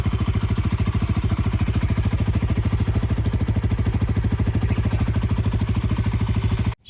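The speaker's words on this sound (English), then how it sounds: "That's the stock exhaust." A motorcycle with its stock exhaust idles close by with a steady, even exhaust putter, rhythmic throughout, before cutting off abruptly at the end.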